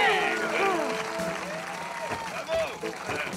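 A cartoon crowd applauds to pick a winner, with scattered clapping mixed with shouting and cheering voices, moderately loud and fading slightly toward the end.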